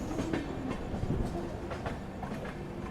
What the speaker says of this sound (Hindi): गाड़ी धीरे धीरे बरेली जंक्शन एंटर कर रही है